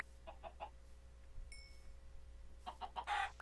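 Minecraft chickens give a few short clucks early and a louder burst of clucking near the end, with a soft chime in between over faint background hum.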